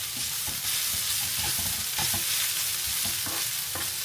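Radish slices frying and stirred in a pan, a continuous bright sizzle broken by repeated scraping and stirring strokes, close and clear with no voices.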